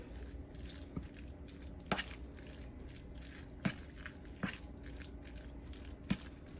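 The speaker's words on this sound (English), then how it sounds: "And then you're gonna stir all this together." A cheddar cheese mixture for holiday appetizers is stirred in a bowl, making quiet, intermittent wet squelches and soft taps spaced about a second apart.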